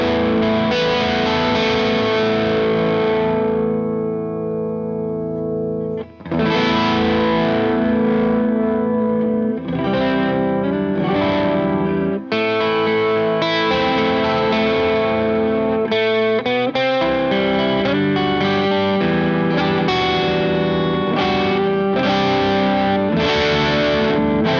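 Harley Benton DC-Custom 612 electric guitar, a double-neck model, played with light overdrive; sustained strummed chords and single-note lines ring out loud and continuous with short pauses, and no talking.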